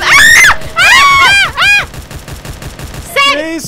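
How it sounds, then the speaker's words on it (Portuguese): Enemy gunfire in the Roblox survival game Radiant Residents, with rapid bursts under loud, excited shouting and screams from several players. "Bate neles, eles estão atirando."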